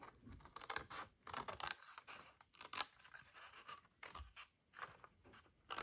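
Paper being cut away for a papercraft box, a run of quiet close snips and scratchy rustles in uneven bursts with short pauses.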